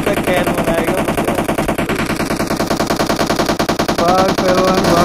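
Rapid automatic gunfire in the mobile battle royale game BGMI, continuous loud bursts of dense rattling shots for the whole stretch, with only brief gaps and no talking.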